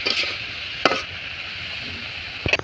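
Food being stirred and fried in a home pan, a steady low sizzle with a couple of sharp scrapes or knocks of the utensil against the pan, close and without talk.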